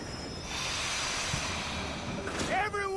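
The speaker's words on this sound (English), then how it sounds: "Train's coming in." Train rolling into a station in Red Dead Online, its wheels letting out a rising metallic squeal near the end over a steady rumbling hiss.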